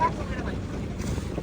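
A boat on Tanguar Haor, a wetland in Bangladesh, runs under way while overtaking another boat, a steady near engine and water rush with buffeting wind on the microphone.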